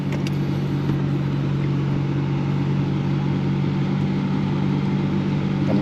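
Nissan R34 GTR engine driving, a steady, loud, continuous drone that holds level throughout without clear revving peaks.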